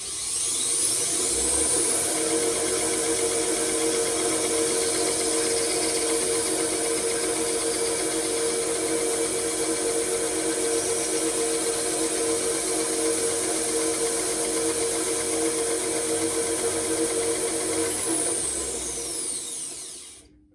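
A belt grinder runs with a steady, loud, high whine as a knife edge is sharpened, unbroken for about twenty seconds before spinning down at the end.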